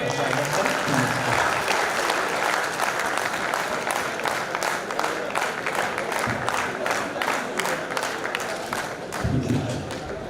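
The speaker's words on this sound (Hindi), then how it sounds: "दिनेश देशी घी आए तो एक बार जोरदार तालियों से आप लोग स्वागत करें।" Audience at a Hindi hasya kavi sammelan (comic poetry gathering) claps in welcome for poet Dinesh Deshi Ghee, a steady dense applause running the whole stretch with some crowd noise and occasional thumps.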